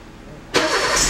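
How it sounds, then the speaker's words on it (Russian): A 2000 Toyota Vitz SCP10 with an automatic gearbox cranks briefly and fires up, jumping from quiet background into a loud, close engine roar that settles into a steady idle. "Сейчас заводим автомобиль"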